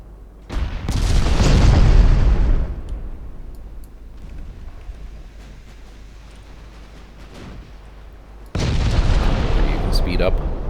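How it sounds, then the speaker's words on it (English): Torpedo detonations in the naval warfare game Ultimate Admiral Dreadnoughts, with a deep rumbling blast lasting about two seconds, a quieter low roar, then another heavy boom near the end. "Torpedo explosion."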